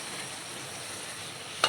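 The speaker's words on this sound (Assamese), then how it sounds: "আলুকেইকণ ভাজি লৈছোঁ।" Potatoes fry in a pan with a steady, even sizzle and one brief sharp crackle at the very end, no talking.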